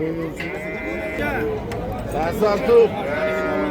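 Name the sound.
cow at a livestock market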